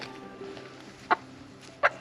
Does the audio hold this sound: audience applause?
no